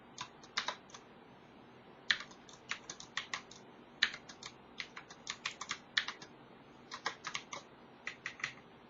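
Code is typed on a computer keyboard in quiet, irregular bursts of key clicks with short pauses between clusters, close and soft with no talk.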